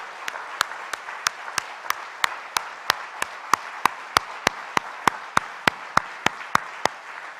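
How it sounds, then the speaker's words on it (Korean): A congregation at a Friday worship service claps together in a steady, even rhythm of sharp claps, roughly three per second, over a soft room murmur that fills the whole stretch. "우리 하나님께 영광의 박수를 올려드려요."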